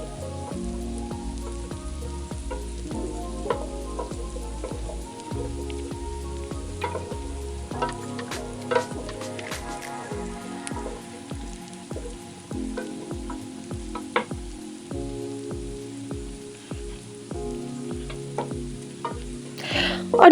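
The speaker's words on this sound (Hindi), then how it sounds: "1 कप ऑयल लिया और उसमें ये धुली हुई अरवी डाली और इसको अच्छी तरह से फ्राई कर लिया" Washed taro pieces fry in a cup of hot oil with a steady close sizzle, broken by rhythmic scraping stirs and occasional pops.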